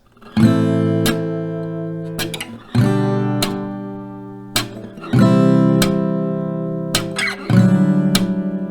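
Strummed acoustic guitar chords, one downstroke per chord, separated by two sharp percussive thumb claps struck on the body, in a steady repeating rhythm with no voices.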